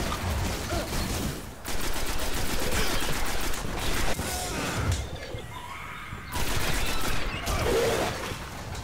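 Gunfire in the shooter game Destiny: rapid automatic bursts and crashing impacts across several seconds, loud and dense, with short pauses between volleys and no speech.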